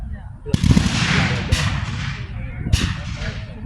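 Civil War reenactment rifles fire three sharp, loud reports spaced about a second apart, each with a ringing tail that echoes across an open field, over a steady background murmur.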